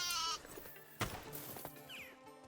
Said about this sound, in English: Right, so this little lamb here needs to go up to the other fold.